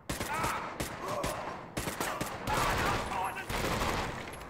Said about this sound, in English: That sounds like a beefy gun.